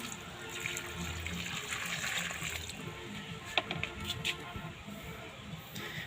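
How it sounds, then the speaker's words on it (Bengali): Water is poured slowly from a container onto a newly planted tree in the soil, a soft continuous trickle and splashing with faint patter throughout. "দাও জল দাও, আস্তে আস্তে জল দাও।"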